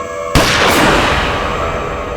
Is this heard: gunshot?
yes